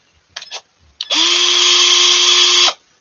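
A power tool whirs steadily for about a second and a half at close range, loud and alone, after a few brief short bursts as it starts and stops.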